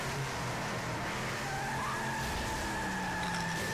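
In Left 4 Dead 2, a car's engine revs and its tires squeal as it pulls away. The rising engine drone is loud and continuous and plays without speech.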